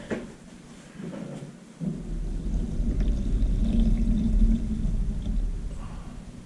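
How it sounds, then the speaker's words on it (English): Water pours steadily into a Janoel 12-egg incubator for several seconds after a brief clunk, a continuous splashing rush that grows fuller and stays loud to the end. "I'm just gonna pour it in there."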